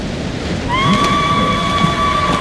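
A horse in the game Ghost of Tsushima whinnies loudly, a long tonal neigh with clear harmonics that rises and holds for over a second, set against a steady rushing ambient background.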